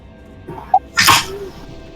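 A single sharp sneeze bursts out close by after a short intake of breath, standing alone in a quiet room during an online game session.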